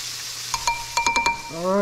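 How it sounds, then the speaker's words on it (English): Eggs being stirred in a sizzling frying pan, a soft frying hiss with a few quick scraping and clinking strokes of a utensil in a short burst, ending on a rising tonal sound. "I think it's enough eggs, gonna mix it in."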